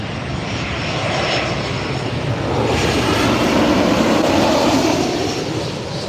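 A Southwest airliner landing at LAX airport roars with a broad, steady jet rumble that swells slightly midway, heard from a distance outdoors and continuous throughout with no talk.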